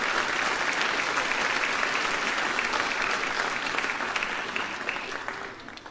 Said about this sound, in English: We can give them another round of applause.